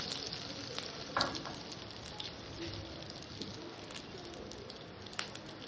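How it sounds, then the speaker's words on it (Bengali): Radhuni seeds tempering in hot oil, a soft, steady sizzle with faint crackles and a few sharper pops, heard alone and fairly quiet. "তেলটা গরম হয়ে গেছে আমি দিয়ে দিলাম এখানে রাঁধুনি ফোড়ন"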